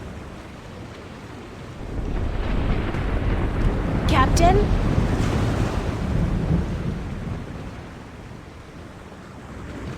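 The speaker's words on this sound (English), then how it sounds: "We must avoid the storm lest it comes on us like Jaw's callous heel and crushes us." A storm at sea in the 1999 adventure game The Longest Journey, with steady rumbling waves and wind swelling to a roar and easing off, while a voice speaks briefly over it.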